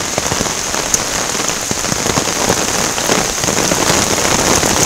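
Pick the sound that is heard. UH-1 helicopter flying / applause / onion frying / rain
rain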